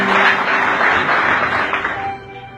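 Audience applause at a live talk, a dense steady patter of many hands clapping that fills the clip and fades slightly toward the end, with no voices over it.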